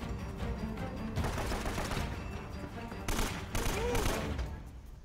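Gunfire in the Uncharted: Drake's Fortune video game, a dense fusillade of shots with heavy bursts swelling around the middle and later, all at a steady loud level with faint voices mixed in.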